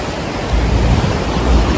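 Rushing water at Hebbe Falls in Chikmagalur makes a loud, steady, broadband roar that fills the whole short stretch without pause.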